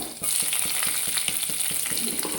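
Mustard seeds and cumin splutter and pop in hot oil in a pan, a loud continuous sizzle with rapid crackles throughout, close up.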